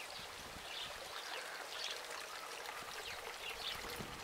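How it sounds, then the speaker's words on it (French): Continuous gentle trickle and splash of water falling from a solar-powered garden fountain, steady and close, with no voices. "ici deux assiettes. Ici, la fontaine solaire"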